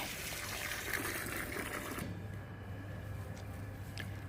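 Water gushes steadily out and splashes down onto hardened soil, a continuous close pour that shifts to a softer, lower flow halfway through.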